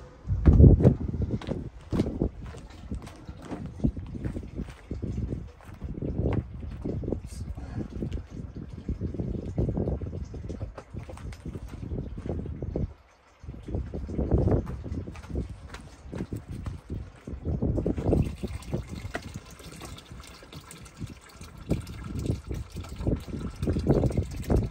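A portable, lightweight off-grid washing machine holding underwear and socks churns with water, sloshing and clopping in irregular close beats for about twenty-five seconds, with a brief pause midway and no talking.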